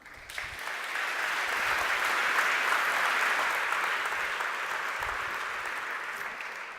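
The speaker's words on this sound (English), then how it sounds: "So please give him a big, big round of applause." Audience applause at a conference talk, a sustained wash of clapping that swells quickly, holds steady and tapers slightly toward the end, filling the room with no voices on top.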